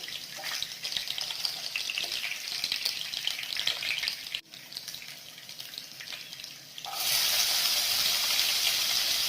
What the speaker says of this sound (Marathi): तेल चांगला गरम करून घ्यायचं आपल्याला इथे आपल्याला पासा पाकल्या लसणीच्या घ्यायच्या आहेत त्या तेलामध्ये टाकायचे आहेत